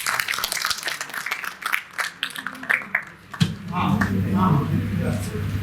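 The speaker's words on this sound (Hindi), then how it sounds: "जोरदार तालियां" An audience at a Hindi public gathering applauds as a scattered patter of claps. A sudden swell of cheering and voices follows and continues strongly to the end.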